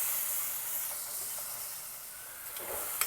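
Tomato paste fries in oil for rajma masala, a steady hissing sizzle that stays even and close, with a faint scrape near the end and no speech.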